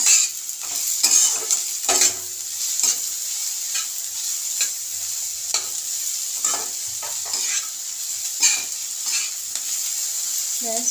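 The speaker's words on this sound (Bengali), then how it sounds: "একটু নেড়ে নিই।" Mixed vegetables for fried rice, sprinkled with sugar, are stirred in a hot pan: a continuous close sizzle punctuated by repeated sharp scrapes and knocks of a spatula against the pan.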